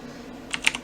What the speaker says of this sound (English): I apologize for the loud mouse or keyboard clicks.